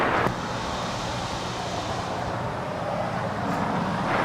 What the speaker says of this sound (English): It's the 787-8 Dreamliner that crosses over 25 right.